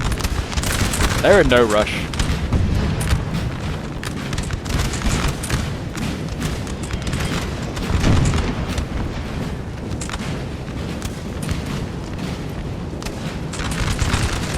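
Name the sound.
musket and artillery fire in Napoleon Total War video game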